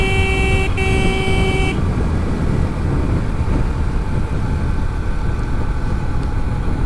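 A motorbike horn on a Hero Xtreme 125R gives one steady, loud honk lasting under two seconds over constant wind and road roar while riding fast in traffic; the rush continues alone after it stops.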